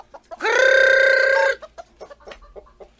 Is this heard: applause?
no